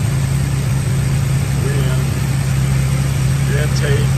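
A muscle car engine with hideaway headlights and a new carburetor idles steadily, a constant low rumble holding even throughout, with faint background voices over it.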